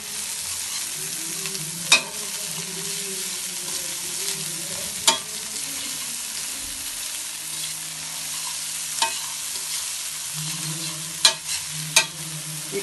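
Spices sautéing in a pan give a steady close sizzle and frying hiss, with occasional sharp clicks of a utensil stirring against the pan; no one speaks.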